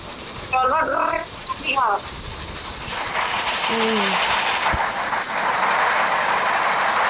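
Steam train pulling into a station in the Red Dead video game: hissing, rumbling rail noise and a whistle-like tone, close and loud, with brief talk early on.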